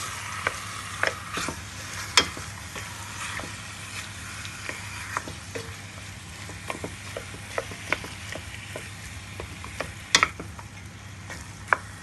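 Mutton is stirred through sizzling masala in a pan, a steady close frying hiss broken by sharp scrapes and clicks of the spoon, with no one talking.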